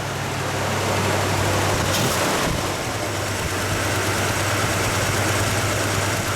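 A 1964 Pontiac GTO convertible's warm V8 idles down in a garage, a loud, steady low rumble with a constant hum and a brief surge of hiss near the start before settling back.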